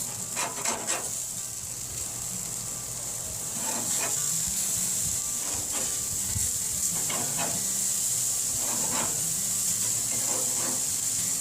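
Slider burger patties cook slowly in a pan with a steady, close sizzling hiss throughout, broken by a few scraping clicks from a serrated spatula.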